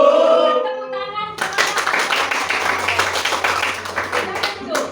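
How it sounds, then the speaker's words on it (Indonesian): A classroom of students claps together in a dense, sustained burst of rapid hand claps after a teacher's voice, continuing steadily and fairly close. "Tepuk tangan."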